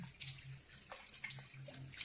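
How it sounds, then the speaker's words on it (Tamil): New clay mud pots are rinsed in plain water, giving soft splashing, trickling and swishing close by with small drips and no talk. "நார்மல் வாட்டரில் ஒரு டைம் இந்த மூணு பாத்திரங்களும் நல்லா வாஷ் பண்ணி எடுத்துக்குங்க"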